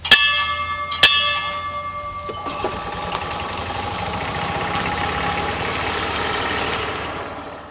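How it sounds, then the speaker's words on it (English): A bell is rung twice in quick succession on the 12th hole of the golf course at Peninsula State Park to signal the course is clear. Each strike rings out bright and close, then fades into a steady low mechanical hum. "you ring the bell to signal the course is clear"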